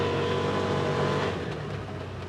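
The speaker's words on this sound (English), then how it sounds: "Let's floor it and feel it." A Can-Am Defender UTV in two-wheel drive, high range, accelerates at full throttle with a loud, dense, continuous engine roar heard from on board, easing slightly toward the end.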